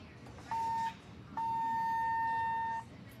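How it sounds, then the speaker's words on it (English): Inside a 1961 Westinghouse traction elevator modernized by ThyssenKrupp at a hospital, a clear steady electronic beep tone sounds twice, first a short one and then a longer sustained one, over quiet cabin hum. "that grocery beep in there"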